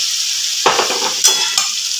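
Marinated chicken drops into hot oil, setting off a sudden loud sizzle with quick bursts of spattering and stirring over a constant frying hiss, close up and with no voices.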